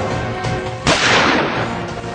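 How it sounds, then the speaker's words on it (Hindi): A sharp gunshot cracks out once near the middle of the clip, loud and close, with a short crackling tail and no voices. "ये ढूंढ ढूंढ कर इराकी सैनिकों के सिरों में गोलियां चला रहे हैं।"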